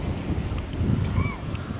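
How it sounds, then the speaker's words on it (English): Steady wind gusts across a microphone on a beach, with low rumbling buffeting and faint surf underneath throughout. "It's a little windy."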